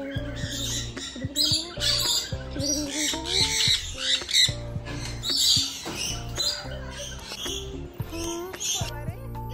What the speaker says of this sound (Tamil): பேரட் ஃபுட்டை கையில் வச்சுட்டாலே போதும், அதுவாக வந்து பயமே இல்லாமல் பறந்து கையில் வந்து உக்காந்துரும்